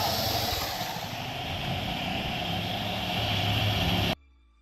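Loud, steady roar of wind and engine on a long motorcycle ride through heavy rain, running continuously for about four seconds and then cutting off abruptly near the end.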